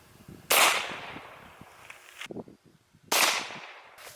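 Two sharp, loud blank-cartridge gunshots are fired with the muzzle pressed against plywood, each a sudden bang with a decaying tail, about two and a half seconds apart, with quieter handling noise between.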